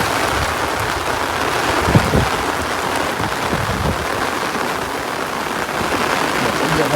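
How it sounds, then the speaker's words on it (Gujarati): Steady rain falls on an umbrella and the ground outdoors during a monsoon shower, a continuous close broadband hiss with a few brief low rumbles and no one talking. "અત્યારે તો વરસાદ આવે છે"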